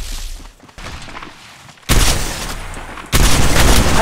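Gunfire in the mobile shooter Apex Legends Mobile, heavy booming shots arriving in loud bursts that grow denser and louder over a few seconds.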